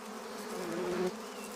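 Honeybees from a colony buzz in a steady, dense drone, a continuous humming swarm heard close by without any voices.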